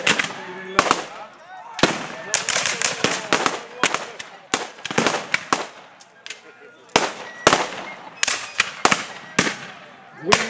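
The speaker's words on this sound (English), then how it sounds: "they're up against the Henry rifles, which are not muzzle loaders, but we fire 7 or 8 times before they have to be reloaded" Henry repeating rifles firing over and over at a Civil War reenactment, sharp cracking shots in irregular clusters, some close and loud, others farther off, with voices talking between and under the volleys.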